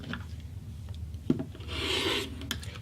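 Scissors cut a long strip from a trimmed fabric swatch edge for a quilt, giving a soft close rasping snip and a brief sharper click, with no talking.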